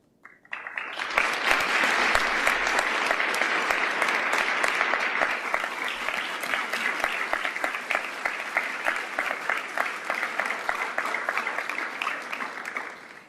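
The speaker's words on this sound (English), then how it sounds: "Please, another round of applause." Sustained audience applause at an International Women of Courage ceremony, a dense roomful of clapping that starts suddenly and holds steady for over ten seconds without talk.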